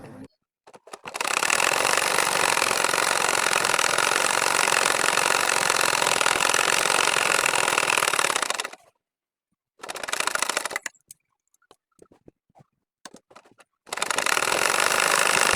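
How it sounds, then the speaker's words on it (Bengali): An ordinary sewing machine stitches a double potol-leaf nakshi kantha quilt, long steady whirring runs of fast needle action broken by pauses and short stop-start bursts. "এখন আমি বড় সেলাই দিব, দেখেন মোটা করে 4 সাইড দিয়ে আমি শুধু সেলাই করেই যাচ্ছি।"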